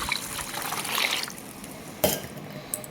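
Water trickles and splashes softly for about a second as it is poured into a village chicken rasam mix with turmeric, then quiets, followed by a brief clink near the end.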